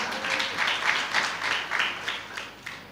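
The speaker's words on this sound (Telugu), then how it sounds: "క్లాప్స్ ఇవ్వాలా, క్లాప్స్ ఇవ్వాలి." An audience at a church field training programme applauds, a steady wash of many hands clapping with rhythmic swells, moderately loud and without talk over it.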